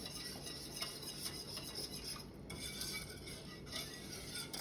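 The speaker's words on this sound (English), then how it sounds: "Make sure that you whisk it and you get all those lumps out" A whisk clinks and scrapes steadily against a pot while stirring chicken broth. The faint metallic stirring continues without pause, and no one speaks.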